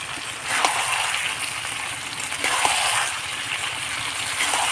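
Onion paste and spices frying in a mix of white oil and mustard oil for a fish curry give a steady, soft sizzling hiss with gentle crackling swells, heard with no talking.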